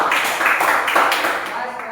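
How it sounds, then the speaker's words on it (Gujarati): A group claps together in a dense, continuous round of applause, close and fairly loud for the whole span, fading slightly toward the end. "તમારા માટે તાળીઓ પાડી દો એકવાર"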